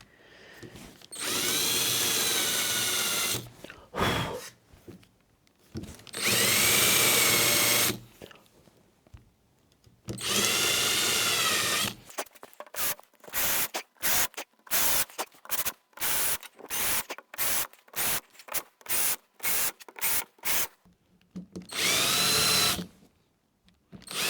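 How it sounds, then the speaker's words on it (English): Power drill countersinking screw holes in wooden boat planks for a small rowing tender, with several long whirring bursts followed by a rapid series of short drill pulses, close and loud, no talking. "I'm now going to countersink the holes"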